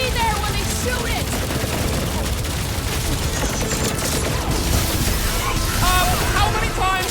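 Dense enemy gunfire from a Guardians of the Galaxy game battle, a loud continuous barrage of rapid shots layered with effects, filling the whole stretch without pause.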